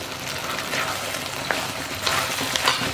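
Cauliflower florets tossed into a pan of thickening cornflour mixture, frying with a steady close sizzle and several scraping stirs and clinks of a spoon against the pan.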